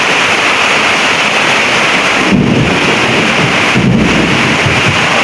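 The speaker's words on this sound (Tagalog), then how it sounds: "Malakas ang ulan." Loud, dense rain pours steadily with a constant hiss, and low rumbles swell briefly twice.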